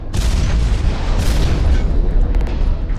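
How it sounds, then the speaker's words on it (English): A mid-air detonation in the mech combat game Hawken sounds as a deep, heavy boom with a rumbling, sustained low roar, loud and close, with a second blast swelling partway through. "See, detonation in midair"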